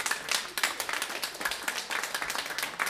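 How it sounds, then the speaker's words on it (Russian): Audience at a brass band concert applauding, a lively, fairly close burst of many hands clapping in a dense, uneven patter that carries on steadily. "спасибо огромное за эти аплодисменты для нас"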